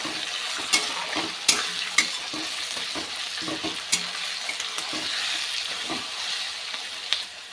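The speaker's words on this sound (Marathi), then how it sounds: "टोमॅटो परतून घेऊया थोडं" Tomatoes and potatoes sauté in a pan with a continuous sizzle, punctuated by rhythmic scraping strokes and a few sharp spoon knocks against the metal.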